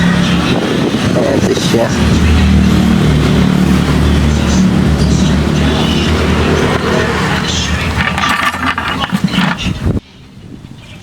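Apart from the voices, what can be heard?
car engine starting and revving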